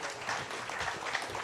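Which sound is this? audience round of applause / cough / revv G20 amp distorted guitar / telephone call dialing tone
audience round of applause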